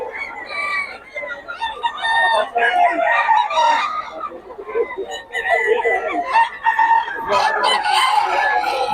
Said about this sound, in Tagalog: Ang pakamura ng mga manok ni Boss Gaga.